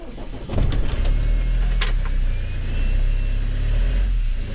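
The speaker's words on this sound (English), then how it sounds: "I'm going to start the engine now." An Iveco camper van engine cranks and catches, then settles into a steady, close, loud idle rumble that continues to the end.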